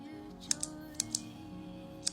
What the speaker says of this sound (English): Just stop clicking the pen, okay? It's so annoying.